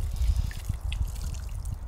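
Water from a hose pours and trickles through a removed, dirty diesel particulate filter outdoors, a short, steady low splashing and dribbling close by with no voices.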